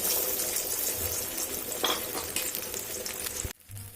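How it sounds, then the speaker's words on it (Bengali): Egg frying in hot white vegetable oil in a pan, a steady broad sizzle filling the scene close up, with a soft stir near two seconds and the sizzle cutting away abruptly near the end. "এখানে আমি তেল বসিয়েছি আর তেলটা গরম হয়ে এসছে এখানে আমি সাদা তেল ব্যবহার করছি"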